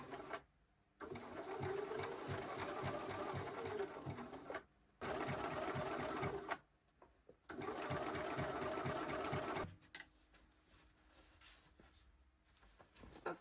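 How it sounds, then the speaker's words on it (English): A sewing machine stitches a quilt block for a wall hanging in bursts of rapid, steady whirring and needle clatter, stopping and restarting several times, close and quiet with brief pauses between runs. "making sure that when I'm sewing, I'm not losing those points"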